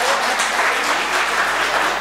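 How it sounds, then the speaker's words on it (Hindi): An audience at a religious poetry gathering breaks into loud, sustained applause for the mufti, a dense wash of many hands clapping steadily without pause. "अगर बात सच हो तो ताली बजनी चाहिए यार मुफ्ती साहब के लिए हमारे।"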